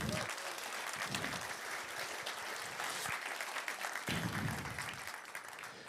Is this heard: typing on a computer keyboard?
no